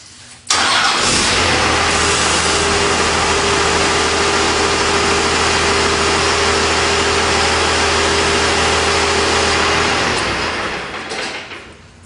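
A truck engine cranks briefly and fires up, then idles loudly and steadily at close range for about ten seconds before the rumble trails off near the end.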